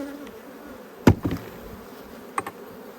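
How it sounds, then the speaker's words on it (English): A small colony of bees is shaken into a nuc hive box. Their low buzz hums faintly throughout, with a few sharp knocks and thumps as the frame is shaken. "shake the rest of these bees in."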